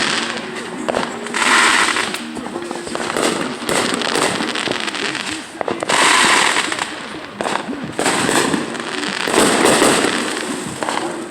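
Cheap backyard fireworks go off in a small home show, with repeated loud bursts, crackling and whistling pops coming in clustered waves, close by and loud, with faint voices now and then.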